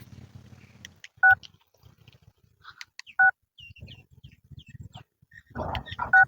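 A telephone is dialed in a home, with three loud, clipped keypad tones spaced apart, a dog barking softly and scattered household noises in between, and the last tones set against a short burst of bustle.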